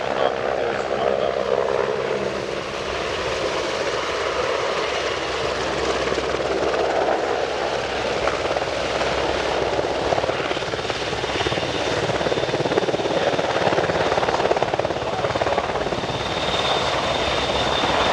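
A CH-149 Cormorant search and rescue helicopter flies a demonstration at an airshow, its steady loud rotor and turbine roar continuous and near throughout, with faint crowd or announcer sound beneath.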